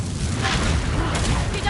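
A Confringo spell bursts in Hogwarts Legacy, a brief, loud, deep boom with a rumbling blast of noise that lasts barely two seconds, with speech mixed in.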